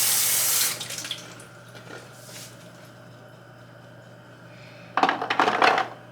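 Peeled garlic is rinsed under a kitchen tap, with a loud burst of running water at the start, a quieter stretch of faint drips and clinks, then a second rush of water near the end.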